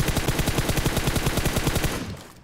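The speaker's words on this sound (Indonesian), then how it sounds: "Ada yang nembakin dari jauh." Automatic gunfire in the mobile game PUBG Mobile, a rapid, even burst of about twenty loud shots that stops abruptly and fades, with no talk over it.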